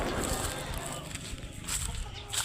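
Organic chickens cluck in short, irregular bursts amid a busy outdoor farmyard with steady background noise and someone talking throughout.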